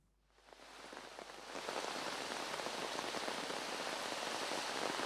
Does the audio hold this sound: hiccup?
no